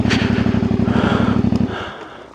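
A CF Moto 450MT motorcycle engine idles steadily at low revs with an even, pulsing rumble, then fades and drops away near the end.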